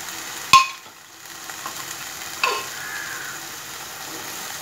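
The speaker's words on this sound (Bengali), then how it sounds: "ছোলাগুলো এভাবে সব দেব, দিয়ে কষিয়ে নেব।" Chickpeas are stirred through a chana masala spice mix in a pan, with two sharp spoon knocks against the metal and soft scraping and faint frying between them in an otherwise quiet kitchen.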